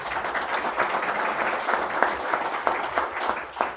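An audience at a formal legal event on criminal law reform applauds steadily, many hands clapping in a dense, even wash that holds at a constant level throughout.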